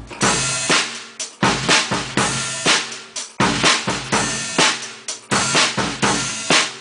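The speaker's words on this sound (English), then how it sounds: "You could choose to do it with your right hand on your hi-hat all the time." A drum-kit beat is played with the right hand on the hi-hat, giving tight hi-hat ticks over punchy kick and snare hits in a steady groove, loud and close, with no voices.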